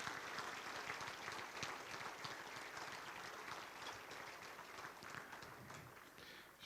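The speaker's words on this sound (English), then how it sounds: "Let's have a nice round of applause for Elaine Jacobs." Banquet audience gives sustained applause for several seconds, many hands clapping in a dense, even patter that fills a large room.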